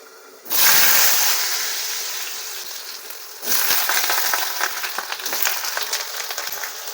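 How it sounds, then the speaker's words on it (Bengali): Potatoes drop into hot oil in a kadai and a loud broadband sizzle erupts at once, easing slightly, then surges again partway through with crackly spatter as the pieces are stirred or shifted; no talking. "এর মধ্যে আলুগুলোকে ভেজে নেব"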